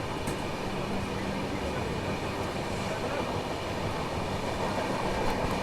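Onboard the 11040 Maharashtra Express, an ICF-rake train running from Gondia toward Pune, a loud, continuous rumble of rolling stock and wheels on rails fills the whole stretch.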